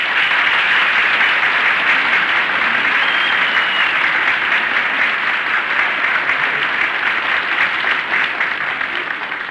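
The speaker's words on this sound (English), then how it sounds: "Who was that applauding?" Steady, dense applause from a group fills the whole clip at close range, holding loud throughout before easing slightly at the end; no voices heard over it.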